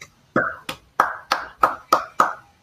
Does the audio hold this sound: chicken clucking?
no